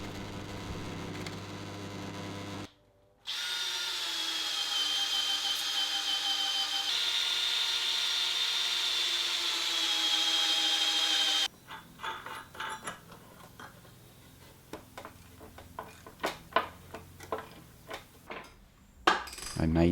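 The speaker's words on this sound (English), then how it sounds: "I'm not at all sure why all my drill presses sound like an elephant giving birth" A drill press runs during a dining table build in a workshop, a loud, steady whining hum lasting several seconds after a brief pause, then giving way to scattered knocks and clatter of wood and tools.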